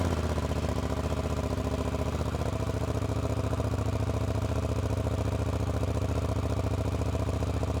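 A 2026 KTM 990 RC R sport motorcycle idles after a cold start, a steady, close, loud engine drone with a fast even pulse and slight clatter, running alone without voices.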